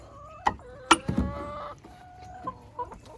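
Isa Brown hens cluck in a small backyard garden, giving a few soft, scattered clucks and short calls with a couple of sharper squawks between them.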